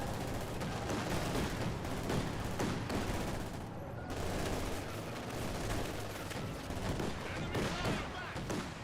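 Vickers machine gun fire in the real-time strategy game Company of Heroes 2, dense rattling bursts layered with other battlefield gunfire and explosions, running continuously under a commentator's voice.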